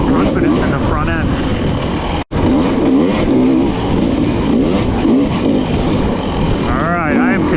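A KTM 300 XC-W two-stroke dirt bike engine revs loudly and close on a trail ride, its pitch rising and falling continuously under a rider's talk, with a brief dropout partway through.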